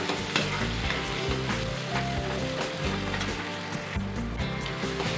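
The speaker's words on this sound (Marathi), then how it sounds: "यालाही चांगला परतून घेऊया कांद्यासोबत" Chopped tomato and onion fry together in a pan for a cluster bean curry, with a loud, continuous sizzle and repeated scraping stirs, heard close with no talking.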